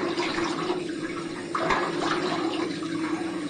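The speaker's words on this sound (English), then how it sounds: "Here's my warm water rinse." Warm water runs steadily from a tap for a face rinse after a wet shave, a continuous close splashing flow with a brief louder splash partway through.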